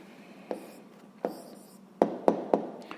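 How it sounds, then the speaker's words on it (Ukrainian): Someone writes an answer by hand on paper, producing five sharp pen taps and short scratches at irregular intervals in a quiet room, close and fairly soft. "Ну що ж, записуємо відповідь."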